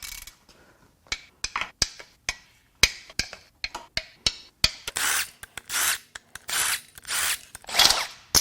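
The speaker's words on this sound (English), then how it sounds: "Now we're going to crack all the bolts loose that hold the upper oil pan to the block." A ratchet wrench clicks in sharp bursts while cracking loose the upper oil pan bolts on a 2016 Toyota Prius engine, close and loud, with short pauses between runs of rapid pawl clicks.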